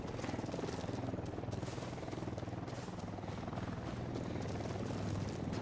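A helicopter in the video game Ghost Recon Wildlands gives off a steady, loud rotor and engine drone that holds evenly through the whole stretch, with no clear talk over it.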